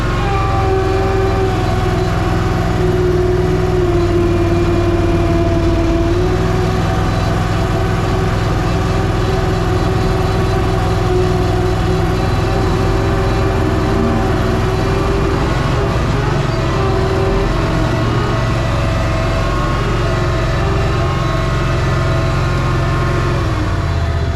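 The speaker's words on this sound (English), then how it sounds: "If that's the pump noisy or the pump a little bit low. It's got kind of a whine to it." A Koyker Raptor 4000 engine runs steadily with a constant high whine from its power steering pump, which may be noisy or low on fluid; the sound is loud and continuous throughout with no voices.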